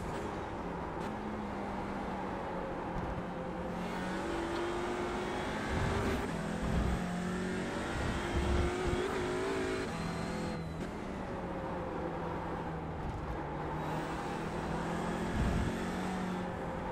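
An Audi TCR race car engine in the iRacing game at Hockenheim drones continuously, rising and falling in pitch through gear changes and corners, with bursts of higher revving between steadier stretches; the sound is quiet and has no talk over it.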